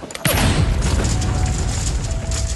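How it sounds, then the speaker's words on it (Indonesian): A bomb blast in a film lands as a sudden loud boom, followed by a sustained roaring, rumbling wash of debris and noise that stays heavy to the end, with no talk over it. "Utsubo pun melemparkan sebuah bom"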